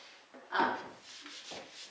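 Hand sanding of a cured water-based wipe-on poly finish on the top of painted furniture: a few brief rasping strokes, the first one loudest, close up with pauses between.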